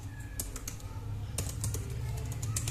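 Computer keyboard typing while writing Python code, a quick irregular run of soft key clicks over a low steady hum, close by and fairly quiet.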